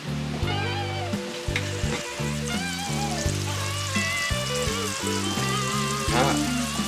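Ground pork frying in a pan, a soft, continuous sizzle and crackle beneath louder background music, no speech.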